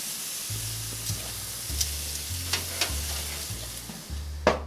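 A porterhouse steak sears on a grill preheated to about 600 degrees, giving a close, steady sizzle and hiss with sharp pops, over a low repeating hum, and no one talking.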